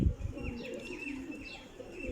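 Flying pigeons coo repeatedly and chirp softly over a steady low background, the calls close and moderately quiet, with no voices.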